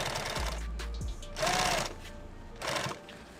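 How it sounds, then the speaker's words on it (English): Sewing machine running along a fabric edge in short bursts, a low motor hum with a couple of brief faster stitching runs separated by pauses, fairly quiet and close. "I'm gonna sew right on the edge."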